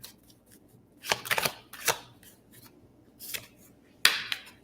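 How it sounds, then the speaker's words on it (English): Deck of cards shuffled by hand: a few separate bursts of quick riffling and flicking, close and crisp, with quiet gaps between them and no speech. "All right, let's shuffle."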